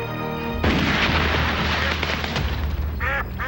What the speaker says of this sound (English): What the hell kind of gun is that?